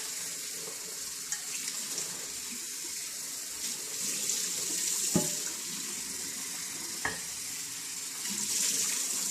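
Steady running hot tap water fills the whole clip, with a couple of sharp clinks of stoneware dishes against a sink partway through.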